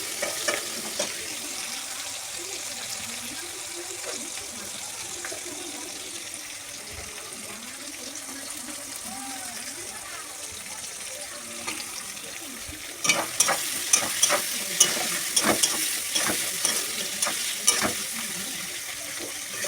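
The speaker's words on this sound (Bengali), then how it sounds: "পেঁয়াজটা ভালো করে ভাজা ভাজা করে নেব।" Chopped onions fry and sizzle steadily in a pan, with scraping stirs that grow louder and more clattery toward the end; no one speaks.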